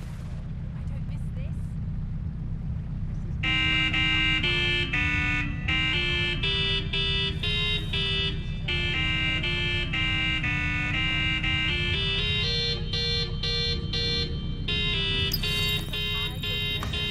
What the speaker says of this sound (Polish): W tym samochodzie, gdy przytrzymamy klakson, to zacznie nam grać hymn Wielkiej Brytanii.